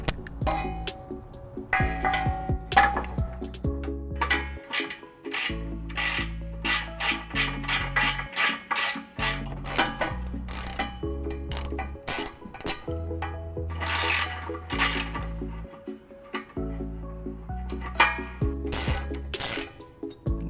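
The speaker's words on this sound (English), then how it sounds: "we're going to switch to our 15mm socket here. Let's go ahead and remove that." A 15mm socket on a ratchet removes a rear trailer hitch frame bolt on a 2009 Dodge Grand Caravan, producing long runs of rapid, close ticking ratchet clicks with brief pauses and metallic handling.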